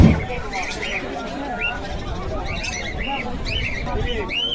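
Pigeons, including desi Giribaj and fancy breeds, at the crowded Beldanga bird market, with soft coos and chirps over a constant murmur of crowd chatter.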